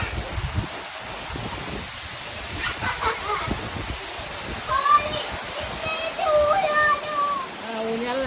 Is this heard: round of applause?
no